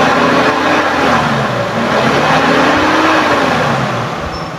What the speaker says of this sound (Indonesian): Coba sedikit kita blayer, kita naikkan RPM-nya, kita dengerin suaranya.